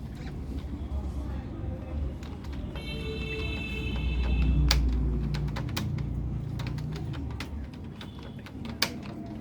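Keys clatter on a computer keyboard in quick irregular bursts, close by, with a soft voice murmuring faintly in the background.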